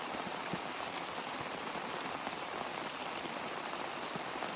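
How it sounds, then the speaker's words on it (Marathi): Heavy monsoon rain pours down in a Marathi village, a dense, unbroken hiss of drops hitting surfaces at steady loudness throughout, with no voices. "तुम्हाला आज मी गावाकडील पाऊस दाखवतो आपला"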